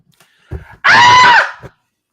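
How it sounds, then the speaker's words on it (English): A single shrill, blood-curdling scream rings out close and loud for about half a second, preceded by a few short breathy vocal sounds and followed by a brief trailing gasp, then silence. "That is a blood curdling scream"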